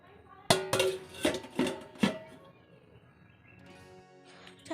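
A metal lid is set onto a pot of food in a home kitchen, giving a quick run of five or six sharp clanks and clinks close by, followed by quiet room tone and a faint voice.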